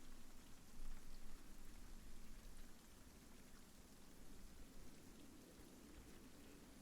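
Hard, steady rain from a tabletop game's ambient soundtrack, a dense continuous hiss of drops at even loudness throughout, with a slight swell near the start and no voices.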